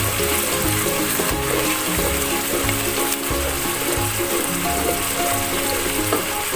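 Onions sizzle and fry in a pan for a chicken roast, a steady crackling hiss joined by repeated scraping and stirring strokes, with no talking.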